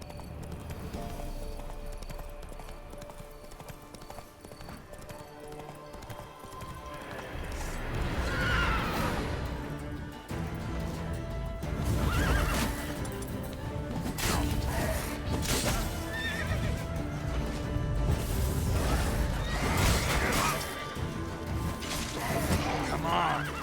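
Roach the horse gallops with rapid clip-clopping hooves and lets out loud neighs in The Witcher 3, mixed with game crashes and clatter that build in intensity throughout.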